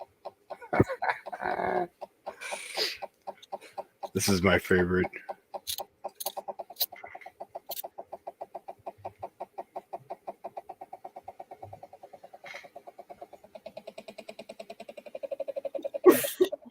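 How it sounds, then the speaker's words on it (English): Chickens squawk and cluck in a fit of distress, a rapid pulsing run of calls with sharper bursts of squawking near the start and end, while a person speaks briefly in between. "That sounds like one of my chickens in distress"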